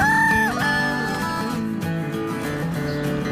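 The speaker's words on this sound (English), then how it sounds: "And guys, cock, big size cock." A cartoon-style rooster crow, shown as a big farm cock toy, rings out loud and tonal at the start. It is followed by a steady, harmonic, music-like backing with no speech.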